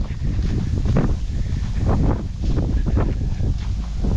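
Steady, loud wind roaring and buffeting close to the microphone in a cold crop field at harvest, with gusts rising and falling and no voices.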